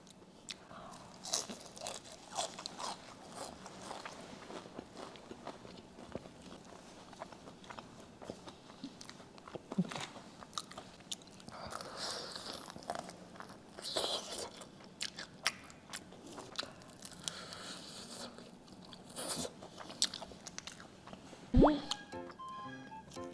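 Crispy fried chicken coated in sauce is bitten and chewed up close, with repeated crunchy bites, wet smacking and sticky chewing sounds scattered across a fairly quiet room, no talking.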